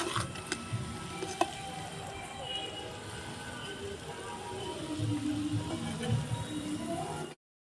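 Egg chowmein being stir-fried in a pan, a steady close sizzle with scraping and clinking from the spoon stirring the noodles, constant throughout.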